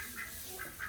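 Ducks kept in a farm barn give a few short, nasal quacks in quick succession, fairly close but not loud, with no voices over them.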